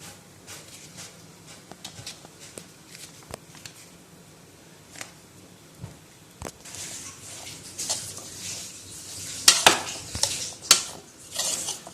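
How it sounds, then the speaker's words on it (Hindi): A red bean (lobia) salad being mixed in a bowl with ketchup: a spoon clinks and scrapes against the dish, light and steady, then busier and louder clatter toward the end, no voices. "ये सबको अच्छी तरह से मिक्स कर लेंगे"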